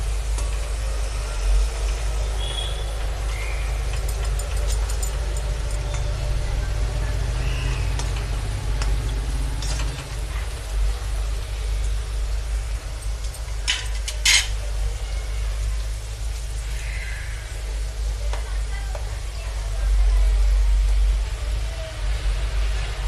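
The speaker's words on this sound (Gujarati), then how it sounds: "હવે જે તલનો પાવડર કરેલો છે તે નાખી દેશું હવે બધું બરાબર મિક્સિંગ કરી લેશું" Onion curry being stirred in a pan after sesame powder is added, a steady close sizzle with intermittent scraping and clinks of a spoon against the pot, no talk.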